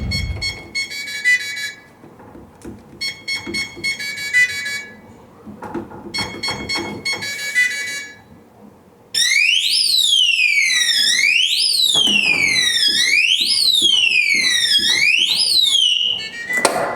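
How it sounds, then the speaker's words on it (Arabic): A safe's loud electronic burglar alarm beeps in short repeated bursts after wrong password entries, then switches to a piercing, continuous rising-and-falling siren that wails steadily until the end. "لو حد دخل الباسورد اكتر من مره غلط بتديني سرينه صوتها عالي"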